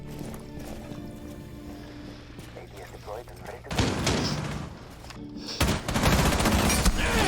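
Gunfire in a tactical shooter match, with broadband bursts of shots around the middle and end over steady background game sound and a commentator talking.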